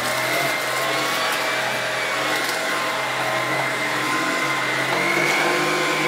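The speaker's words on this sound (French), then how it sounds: "c'est beaucoup plus facile de déplacer l'aspirateur" A Tineco Pure One Station 5 cordless vacuum cleaner runs on carpet with a steady, loud motor whine and airy suction hiss, constant and close throughout with no talking.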